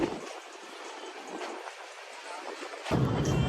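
Train moving slowly through a forest in Gujarat near Sasan Gir, a steady rolling rumble of carriages with a louder surge of wheel and rail noise near the end, no voices.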